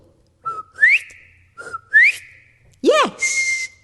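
A person whistles close and clear, imitating a bobwhite bird's call: two rising two-note whistles followed by a warbling, trilled phrase.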